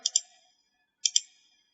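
Computer mouse clicks in jacquard knitting design software: two quick double-clicks about a second apart, crisp and quiet, with silence between and no voices.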